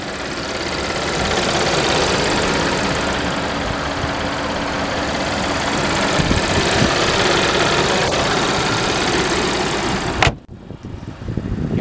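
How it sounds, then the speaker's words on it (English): A 2011 Audi A6 3.0T Quattro with a 3-liter supercharged V6 runs at a steady idle, a loud, even engine drone that continues until it cuts off abruptly near the end, leaving quieter background. "up under the hood of this Audi, you have a 3-liter supercharged V6 engine"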